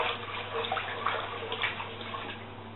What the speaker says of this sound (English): the water is now running much clearer